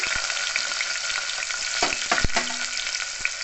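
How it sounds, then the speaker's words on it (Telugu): Green chillies fry in hot tempering oil for a tangy amla dal, giving a continuous close sizzle broken by a few sharp stirring clinks. "ఈ తాలింపులో ఇలా పచ్చిమిర్చి వేయడం నాకు చాలా ఇష్టం అండి చక్కగా ఇది ఫ్రై అయితే"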